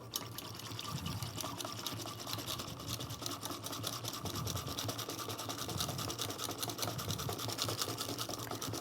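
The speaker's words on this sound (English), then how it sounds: "we're going to make our foam, milk foam, for our latte. So this you can use just a simple whisk." Milk being whisked by hand into foam for a latte, a continuous fast scratchy rattle of the metal whisk against the container, steady and close throughout.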